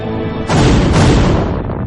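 A loud, deep booming explosion erupts suddenly and rolls on with a broad roar that slowly fades, portraying the blast of the Chernobyl nuclear plant's reactor number 4, with no voices.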